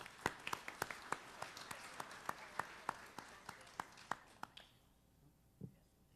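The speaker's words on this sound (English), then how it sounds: "let's give Donnie a round of applause" An audience at a community college gala claps for an honoree, the sound a sparse, steady run of individual handclaps fairly close by that dies out after about four and a half seconds, followed by quiet room tone.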